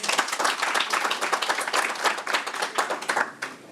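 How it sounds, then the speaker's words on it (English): An audience at a census publication handover event breaks into a burst of clapping, a dense, lively patter of many hands filling the room, steady and fairly loud before easing slightly at the end. "I think we need a round of applause."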